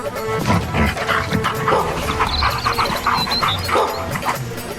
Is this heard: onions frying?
no